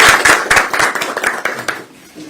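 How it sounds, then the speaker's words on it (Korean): A crowd at an outdoor political campaign rally breaks into brisk, dense applause, loud and close, fading slightly toward the end. "큰 박수를 한번 부탁드리겠습니다"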